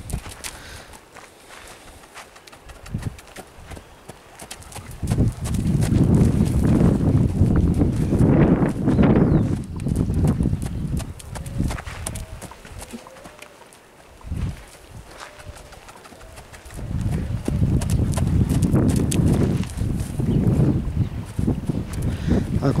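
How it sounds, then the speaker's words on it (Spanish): A young dun colt's hooves walking on hard ground in steady clip-clop bursts, with breezy outdoor noise and occasional voices in the background. "Muy lindo caballo."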